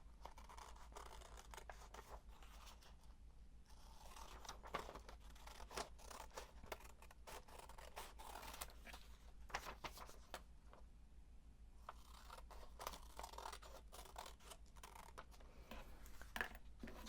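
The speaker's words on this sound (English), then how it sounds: "we're going to cut along the outside. And you don't have to be super careful about cutting along the outside. Let's just get rid of all this excess paper" Scissors snip away excess paper around a shape for English paper piecing, a steady run of crisp cuts and crinkling rustles at close range, fairly quiet, with no voice over them.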